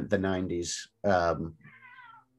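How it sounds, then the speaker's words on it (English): A house cat lets out a couple of short, clear meows close by, right after a person speaks briefly. "my cat is meowing"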